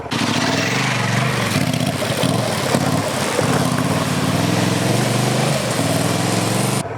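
Honda XL750 Transalp motorcycle climbing a rough off-road section, the engine revving loudly and steadily with small rises and dips in pitch throughout.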